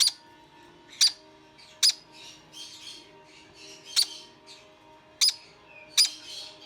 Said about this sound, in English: Now the birds you can hear in the background are his parents.